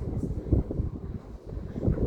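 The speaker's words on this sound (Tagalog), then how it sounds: "Malakas yung hangin niya" Strong typhoon wind buffets the microphone outdoors, a loud, low, continuous rumbling roar with gusty surges.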